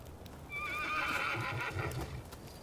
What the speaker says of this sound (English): Horse flute. Oh, we have a horse.